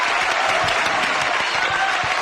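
Studio audience applause, a dense, loud and even burst of clapping that holds steady for the whole stretch, with no talking over it.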